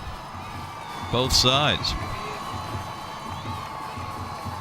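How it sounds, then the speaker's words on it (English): Crowd in the stands at a high school football game, Rowlett vs North Garland, on a third-down play. A steady roar of cheering and shouting builds around a brief whoop, with a commentator talking over it. "Listen to the crowd getting into this."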